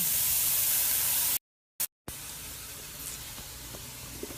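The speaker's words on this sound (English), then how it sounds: "And what we're going to do is just saute this up." Mushrooms sautéing in a pan make a steady broadband sizzle and hiss, broken by a brief silent gap before the frying noise resumes, fairly close and continuous.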